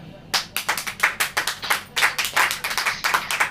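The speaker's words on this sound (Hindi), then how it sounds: "ताली में मजा नहीं आ रहा।" Congregation at a Hindi church service clapping in a steady rhythmic beat, a string of evenly spaced, crisp claps close by after a short quiet start, with no voices over them.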